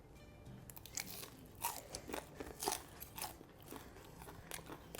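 Loud, close crunching bites into crispy Korean-style sweet and sour fried chicken, with a series of sharp crackling crunches and chewing spread across the clip and no talk.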